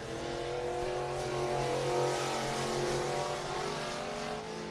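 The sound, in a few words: race car engine at raceway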